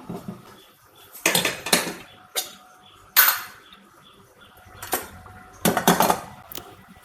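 Metal pots and pans clatter and clink in a home kitchen as a pot is set on the stove to make corn puttu, several sharp bursts of clanking spaced between quiet pauses.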